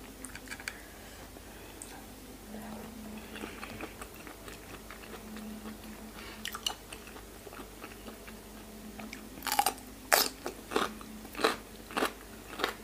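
Raw salmon chewed close to the microphone, with soft wet mastication that turns into a run of sharper, louder bites and crunches toward the end.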